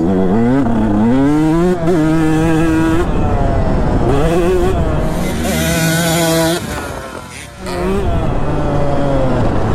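A KTM 150 SX two-stroke dirt bike ridden on a motocross and enduro track, its engine loud and close, revving and dropping with throttle changes, briefly easing off near the end before climbing again.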